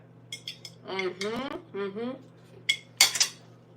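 Dishes and cutlery clatter as a kitchen is cleaned up, with a few bright clinks and scrapes that come in bursts around a person speaking.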